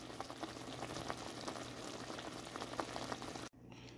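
Beef ravioli simmering in sauce, a quiet steady bubbling with soft pops throughout, ending abruptly in a sudden drop in sound near the end.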